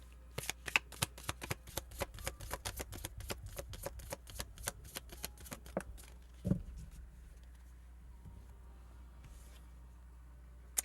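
Tarot cards are shuffled by hand in a rapid run of crisp riffling flicks for about six seconds, then softer scattered card sounds, close and fairly quiet with no talking.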